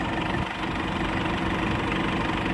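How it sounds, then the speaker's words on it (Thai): An Isuzu D-Max All New pickup truck engine idles close by with a steady, low, rumbling drone and faint knocking throughout. "นี่ครับเครื่องติดแล้วนะครับผม"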